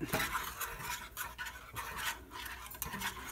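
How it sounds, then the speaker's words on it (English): Flour glue paste being whisked in a pot on the stove as it thickens, a continuous scraping, swishing stir with rhythmic strokes close by, no talking. "Now I'm going to turn it back down. And just keep whisking it."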